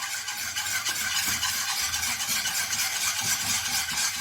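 A spoon stirs a milk mixture for homemade yogurt in a pot, a steady scraping, swishing sound that continues unbroken at close range with no talk.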